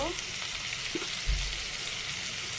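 Papaya mash with turmeric powder stirred in a hot pan, a continuous sizzle with a few soft scrapes of the spoon, close and moderately loud.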